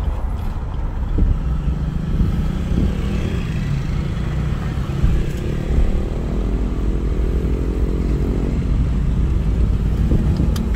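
Steady rumbling road noise from inside a car moving over a rocky road, with a low engine drone and occasional clatter and bumps throughout; no talking.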